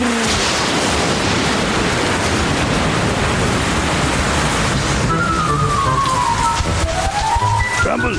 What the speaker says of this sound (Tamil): போட்டு பயங்கரமா மழை பெஞ்சுக்கிட்டு இருக்கு